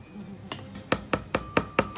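Knife chopping garlic and other ingredients on a board for an Indonesian sauce in Bali, six sharp evenly spaced cuts close up, quickening slightly after a couple of lighter taps.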